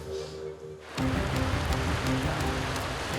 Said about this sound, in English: It's heavy rain now. Windscreen wipers full on.